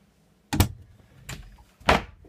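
A freezer drawer in the galley of a 2007 Sea Ray 310 Sundancer yacht gives three hollow thumps as it is handled, the first and last firm and close, the middle one softer.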